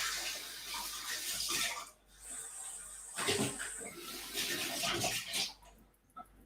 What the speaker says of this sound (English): And rinse the little jigger out.